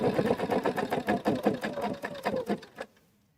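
Sewing machine stitching a line of shirring on a shirt, a steady close rhythmic run of needle strokes lasting nearly three seconds before stopping abruptly, no talking.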